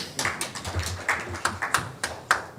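At a World Press Freedom Day 2024 event, sparse clapping from a small audience greets a speaker: scattered, separate hand claps at an uneven rhythm, moderately close, with quiet gaps between them.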